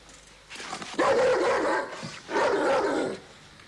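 A dog barks in two loud, sustained bursts at close range, with a short pause between them and no talk over it.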